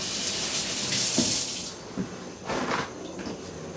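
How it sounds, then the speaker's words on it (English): Tap water runs steadily in a sink as hands are rinsed, a close hiss that fades out partway through, followed by a couple of soft splashes and clatters. "But let me just rinse off my hands."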